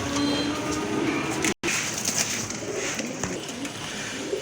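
A pair of magpie pigeons coo softly amid a busy background of rumbling noise, with a brief dropout partway through.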